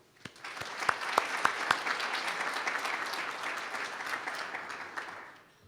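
An audience at a university business event claps, starting with a few sharp, distinct claps that swell into a moderate, even round of applause and fade out near the end.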